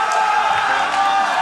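Loud, steady crowd roar with cheering fills the hall at a powerlifting championship as a carpenter from Quebec pulls a 322.5 kg (711 lb) deadlift, continuous and dense throughout.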